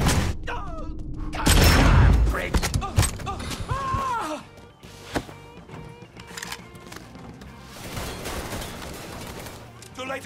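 Mafia 3 gunfight with heavy bursts of gunfire and thuds, loud at first and then scattered and sporadic, mixed with game voices and music.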